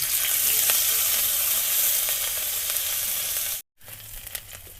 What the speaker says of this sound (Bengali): আমরা এবার কোঁড়ার মধ্যে আমরা তেল দিয়ে নেব আমরা কেটে রাখা আদা রসুনটা কোনার মধ্যে দিয়ে নেব